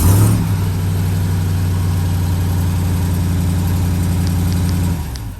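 A 2022 RAM TRX pickup engine turns over on remote start and settles into a loud, steady deep idle, close by and unbroken for several seconds before cutting off near the end.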